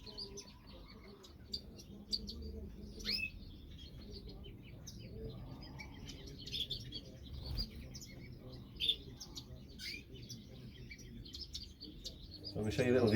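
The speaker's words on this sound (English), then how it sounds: "some of the Gouldian finches that we've got in the flight" Gouldian finches in an aviary flight give soft, scattered high chirps and tweets, fairly faint over a steady low background hum, with a few brief louder calls near the end.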